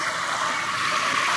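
Ocean waves used as a relaxing backdrop for a yoga practice, heard as a steady, soft wash of rushing water with no breaks or voices.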